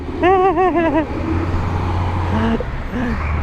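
A truck passes on a road, with a low steady engine drone and traffic noise running throughout; voices and other sounds rise over it.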